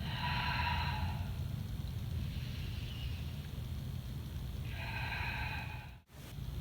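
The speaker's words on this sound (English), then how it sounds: "Inhale through the nose, exhale through the mouth." Steady, loud breathing through the nose and out through the mouth during a core exercise, a continuous airy rush with a brief break near the end.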